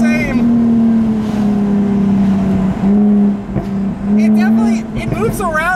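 A 2016 Jaguar F-Type V6 convertible cornering, its engine holding a loud, steady tone up close, with brief dips and rises in pitch; a person talks over it.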